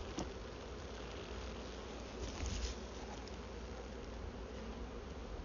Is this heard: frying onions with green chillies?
no